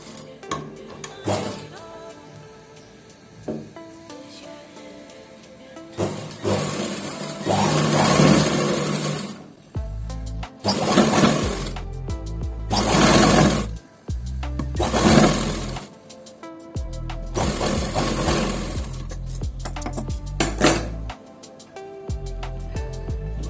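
A sewing machine stitching piping onto a blouse sleeve, running in several close bursts of rapid mechanical whirring separated by brief pauses and handling noise.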